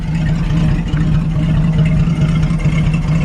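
A 1951 Chevrolet 3100 truck engine runs on a straight pipe with no muffler, a loud, close, steady low rumble with an uneven pulsing throb and no voices.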